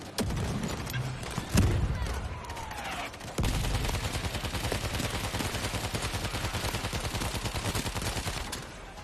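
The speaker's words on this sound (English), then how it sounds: "my mortar strikes are perfect" Mortar strikes explode in a video game battle, heard as a dense, continuous barrage of rapid blasts and gunfire with heavier booms near the start and midway, loud and unbroken until it fades at the end.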